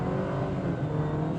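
A 2015 BMW 316i engine in sport mode revs in a brief, steady, loud drone heard from inside the car.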